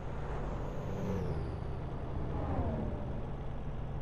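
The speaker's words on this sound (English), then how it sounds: "I love the sound of the cars and trucks going by. That whoosh sound." Cars and trucks passing on a highway in American Truck Simulator, a continuous loud rushing whoosh over a low engine drone, with a rising and falling air-brake-like hiss near the start and no voices.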